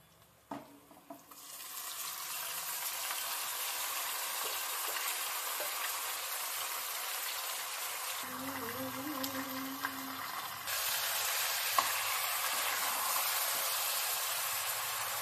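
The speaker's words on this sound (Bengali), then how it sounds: "তারপরে আমি এই ম্যারিনেট চিকেনটা আছে, তো সেই চিকেনটা আমি ঢেলে দেবো" A steady, hissing sizzle with faint stirring continues as marinated chicken goes into a pan of deep-fried onions for a Bengali home-style chicken curry. The sizzle holds fairly soft and even, then grows slightly louder toward the end.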